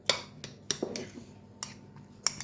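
A spoon dishing a mixture onto slices of white loaf for quick hot sandwiches, a few sharp clinks and taps of the spoon against a dish with soft scraping between, close and quiet.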